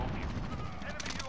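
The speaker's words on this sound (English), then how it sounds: "Someone shooting at me?" Brief gunfire from the Modern Warfare multiplayer video game crackles in a short, dense burst, with a voice talking over it.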